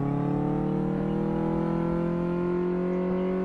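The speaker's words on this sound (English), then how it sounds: "acceleration test, which is not very good" Car engine in Car Mechanic Simulator 2018 during an acceleration test, a steady, loud drone climbing slowly in pitch as the car gains speed, with no talk over it.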